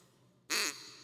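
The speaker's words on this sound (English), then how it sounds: "This is a Duck Commander triple threat mallard hen duck call." A Duck Commander Triple Threat mallard hen duck call blown once, a short loud nasal quack of about a quarter second rising out of quiet room tone, then fading.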